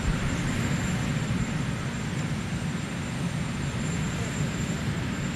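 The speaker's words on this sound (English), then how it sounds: "Sorry if you hear the helicopter noise." A constant low rumbling roar of a nearby helicopter fills the whole clip at an even level.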